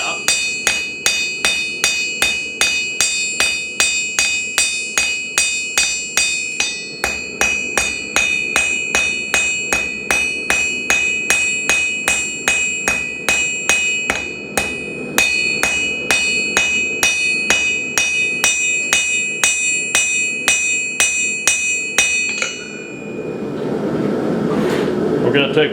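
A blacksmith hammers hot steel on an anvil to taper it, loud rapid ringing blows in a steady rhythm for over twenty seconds, with a short pause midway and the strikes stopping near the end.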